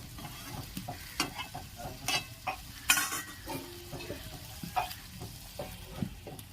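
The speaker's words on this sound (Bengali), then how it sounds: "এভাবে এটি ভালো করে কষিয়ে নেবে।" Chicken do pyaza stir-fried in a pan: a quiet sizzle broken by repeated scraping and clinking spatula strokes at an uneven pace, heard up close with no talking.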